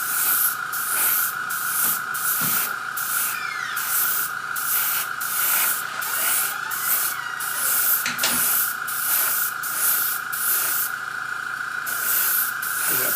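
An airbrush sprays paint in short repeated bursts, a close, steady hiss that starts and stops in a regular rhythm with an even pitch throughout.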